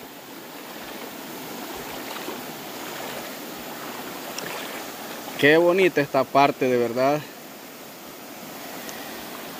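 A small clear stream flows steadily over its bed, a soft continuous wash of running water heard close, with someone briefly speaking over it midway.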